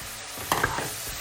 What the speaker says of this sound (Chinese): 咱们将肉末炒熟以后，往里边放点蒜瓣